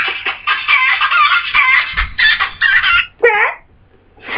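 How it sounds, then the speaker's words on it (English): Hens cluck in a steady run of loud, close, bright calls, ending in a rising rooster-like squawk before a short pause. "Chicken."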